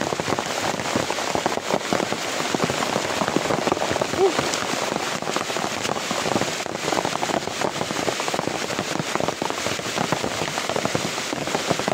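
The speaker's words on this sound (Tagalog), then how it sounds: "sobrang lakas ng ulan" Heavy rain pours steadily, a dense, loud, unbroken hiss and patter with crackling drops throughout, heard from close by with no clear voices.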